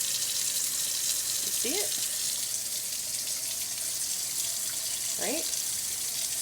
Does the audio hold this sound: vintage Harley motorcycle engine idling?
no